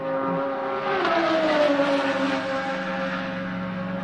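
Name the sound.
race car roaring past on the track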